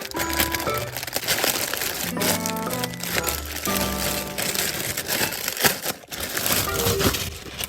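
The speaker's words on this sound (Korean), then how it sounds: "트랙도 한번 뜯어볼게요" Plastic wrapping on a Nerdy track suit is torn open and handled, making loud, continuous crinkling and crackling that swells and dips as the packaging is pulled apart.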